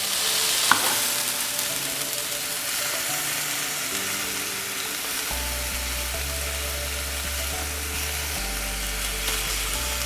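Food set on a hot grill gives a steady, loud sizzle and crackle throughout, with faint clicks and a low hum entering partway, close and without voices.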